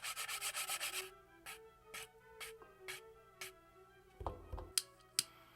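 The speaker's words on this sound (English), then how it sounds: "I'm sanding really hard, as you can see." Rapid rhythmic rubbing of sandpaper on a 3D-pen-made camera model, loud at first then in slower separate strokes, close up, with a few sharp taps near the end.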